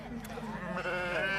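Sheep in a show pen at a village agricultural show bleat in a drawn-out, wavering call up close, with a voice partly overlapping.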